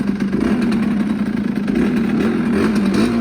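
A 50cc moped engine running in neutral, a loud, close buzzing two-stroke drone that rises and falls slightly with the throttle for a few seconds, no speech.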